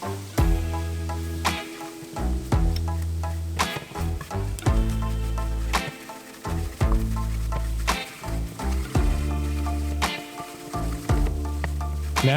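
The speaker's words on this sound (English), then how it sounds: "add in some all-purpose flour and stir until the mixture turns into a loose paste" All-purpose flour is stirred into a sizzling pan to form a loose paste for a shrimp pesto alfredo sauce. Continuous frying crackle comes close up, broken by repeated scraping stir strokes, with no speech.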